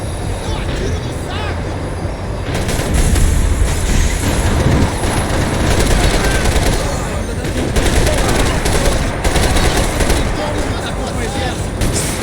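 A tram rumbles and clatters loudly along the rails in Max Payne 3, with dense bursts of gunfire crackling over the rolling noise and a voice speaking beneath.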